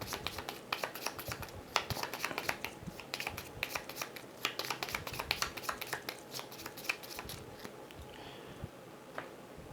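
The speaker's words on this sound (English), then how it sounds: "I do need to shuffle this back into the residence deck." Board game cards being shuffled back into the deck, a close run of quick riffling snaps and flutters in uneven bursts.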